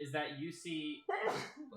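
A single sharp sneeze bursts out partway through conversation at a Dungeons & Dragons tabletop game, with voices talking before and after it.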